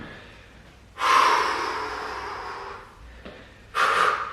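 Strong exhaled breaths during an exercise workout, two close, loud, airy blows, the first long and steady and the second short, with a faint intake between.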